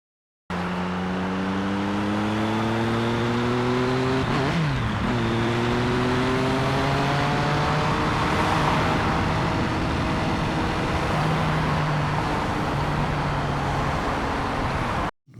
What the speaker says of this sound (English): there's a lot of car passing by